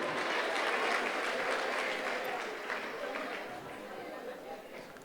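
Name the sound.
applause for a student at an awards ceremony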